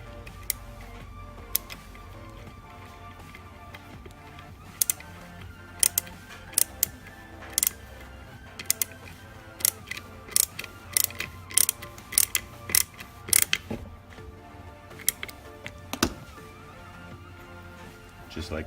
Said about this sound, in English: Get my wrench into place and just kind of wiggle the nut right into place